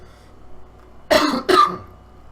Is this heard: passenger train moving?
no